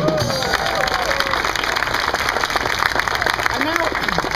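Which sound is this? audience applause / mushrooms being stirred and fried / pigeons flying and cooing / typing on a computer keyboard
audience applause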